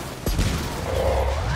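Gunfire in the Gears of War 4 campaign: a sharp burst of shots at the start, then a sustained volley that stays loud and steady to the end.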